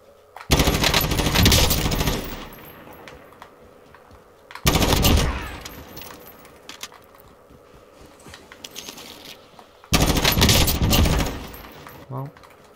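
Three bursts of rapid automatic gunfire in the video game Warzone, each about two seconds long, loud and close, separated by quieter stretches of game ambience.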